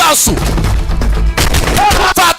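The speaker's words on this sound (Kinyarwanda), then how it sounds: "Sikia bullet wewe, sikia bunduki" Loud bursts of gunfire from an action movie, with heavy thuds and rapid shots cutting through a dubbed soundtrack while a narrator talks over it.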